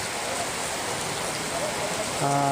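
Heavy, continuous rain during flooding, a dense unbroken hiss of downpour filling the whole stretch, with a voice starting to speak over it just at the end.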